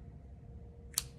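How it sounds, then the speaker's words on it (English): A single short snip of scissors cutting a piece of yarn, close and crisp after a moment of quiet room tone. "still just cutting about 4-inch sections"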